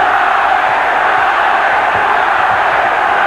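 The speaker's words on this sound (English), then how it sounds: "Pro Chavez crowd chanting already." Boxing arena crowd at a Floyd Mayweather versus Jesus Chavez fight chanting for Chavez, a loud, dense, steady roar of many voices filling the hall without a break.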